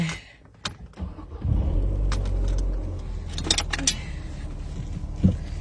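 Car keys jangle in short metallic bursts beside a car on a rainy day, with a door thunk and low vehicle rumble in between, fairly close and with no talking.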